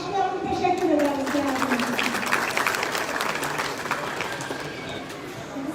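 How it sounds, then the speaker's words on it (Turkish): An exhibition audience in Antalya applauds the painters, a broad sustained round of clapping from a crowd that swells early and slowly fades. A voice speaks over the opening moments. "Ressamlarımıza alkışlayalım, teşekkür ederiz."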